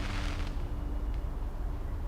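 Fireworks in the video game Old Skies rumble as a continuous low booming wash, with a duller burst at the start and a faint pop partway through.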